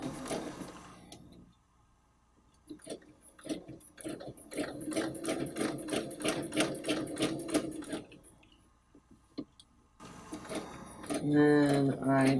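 A sewing machine stitches a quilt along a ruler, its rapid rhythmic needle chatter running in bursts that start and stop, with a person talking over parts of it.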